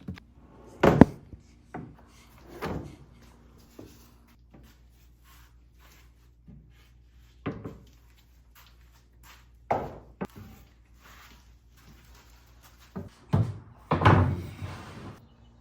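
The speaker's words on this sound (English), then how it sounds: "My drawer slides are undermount, which comes with these clips, makes it super easy." Undermount drawer slides with clips closing drawers on a white oak sofa table: a series of sharp wooden thunks and soft knocks spaced irregularly, fairly close, with quieter slides between and a heavier cluster near the end.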